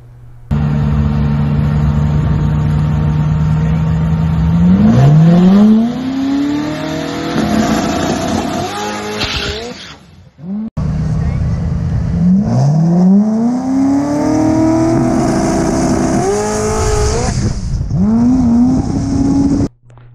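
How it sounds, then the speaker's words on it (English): A tuned car launches at a drag race and revs hard, twice in a row. The engine note sweeps upward through the gears as the tire spins, loud and close, with a short gap between the two runs. "it spun the tire as soon as it set the front end down"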